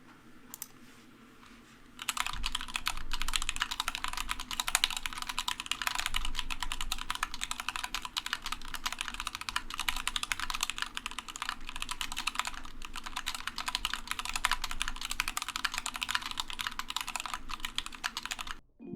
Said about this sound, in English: It's about time we hear this dainty keyboard dance.